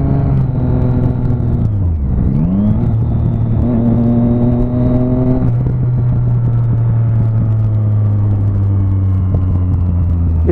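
Loud, close car engine with a steady drone that dips around two seconds and then rises again as the revs climb, settling back into a heavy, even rumble.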